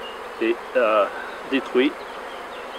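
Honeybees in a hive during a changeover from an old queen to a young one, heard as four short, near, tonal buzzing bursts in quick succession, with a brief spoken voice.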